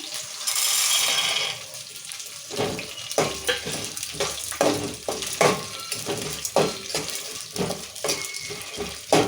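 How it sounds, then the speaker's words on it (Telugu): Peanuts and chana dal fry in hot oil in a home kitchen, with clattering, scraping stirs against the pan coming in repeated bursts over a soft background sizzle. "ఇప్పుడు పల్లీలు శనగపప్పు వేసుకున్నాము"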